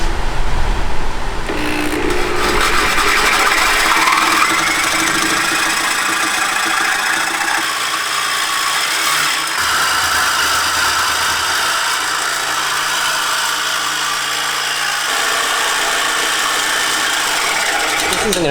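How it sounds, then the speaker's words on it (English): A reciprocating saw cuts through the exhaust midpipe of a BMW F80 M3, a loud, steady buzzing rasp that runs continuously close by with no talk over it. "take a sawzall and cut right through that"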